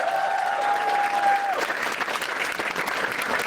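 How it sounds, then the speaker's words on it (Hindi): Audience at a stand-up comedy show applauding, a dense, steady wash of clapping from a crowd that carries on throughout, with a brief tone at the start. "ताली बजाओ सब लोग"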